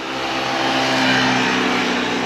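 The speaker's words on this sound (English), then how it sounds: "The motorbike's just gone past" A motorbike passes on a road in Palmanova, Mallorca, its engine a loud, steady drone close by that holds through the whole pass without any voices.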